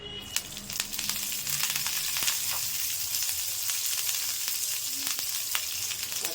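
Oil sizzles on a hot tawa, a steady bright crackling hiss with frequent small pops and spits, close and continuous for several seconds with no voices.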